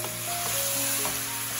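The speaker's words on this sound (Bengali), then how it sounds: "এখন এই যে আমরা কষাবো মাংসটা" Beef for bhuna fries and is stirred in a hot pan, giving a dense, loud, continuous sizzle up close.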